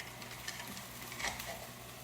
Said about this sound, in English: Drop my onion in.